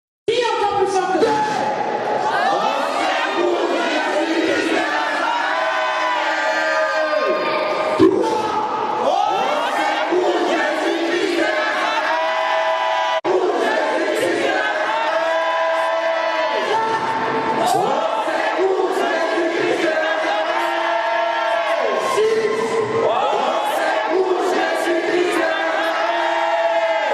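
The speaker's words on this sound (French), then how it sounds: "crie encore plus fort que Bartimée" A church congregation at a French service shouts loudly together in repeated waves of massed voices, each surge swelling, holding and breaking off before the next, loud and close.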